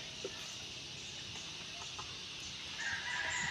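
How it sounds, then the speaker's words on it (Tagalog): Chickens clucking around a rural chicken coop in a provincial setting, soft steady clucks and calls at moderate distance over outdoor ambience, with no talking. "Nilipat po din ni Makoy ang kanyang manukan."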